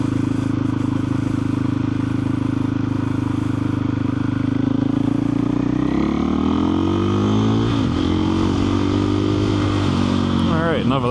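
KTM 500 EXC-F dirt bike cruising country roads, its steady close engine drone filling the ride, with gear shifts and rising revs as it accelerates past the midpoint and a wind-buffeted roar throughout; no talking.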